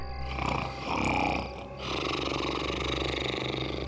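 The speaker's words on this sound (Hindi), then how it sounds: "खर्राटे मारने की कंपटीशन हो तो ये जीत जाएगा" A man snores loudly and deeply, a long rumbling rasp followed by a sustained droning breath, close and unaccompanied by talk.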